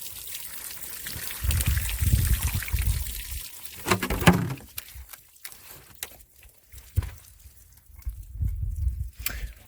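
Water pours and trickles out of a shot-through test jug after a .40 S&W hardcast bullet test, in uneven splashing bursts that come and go, loud early and fading into intermittent dribbles with quiet gaps.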